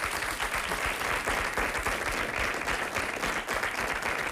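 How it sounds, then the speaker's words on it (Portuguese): A television studio audience applauds on a Portuguese afternoon talk show, steady dense clapping that holds at an even level throughout, with no voices rising above it. "Um aplauso para a Paula"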